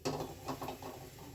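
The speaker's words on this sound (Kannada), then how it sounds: "ಒಲೆ ಹಚ್ಚಿದ್ದೀನಿ" A few sharp mechanical clicks close by, like a gas stove igniter being turned, with no voices.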